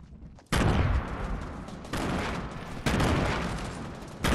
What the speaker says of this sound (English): There's a guy Tommy gun pushing you.